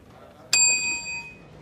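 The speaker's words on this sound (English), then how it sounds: "Princess Ding Dong, do not hit that bell" A quiz-game bell is struck once, giving a bright ringing tone that sustains and fades over about a second against a faint room background.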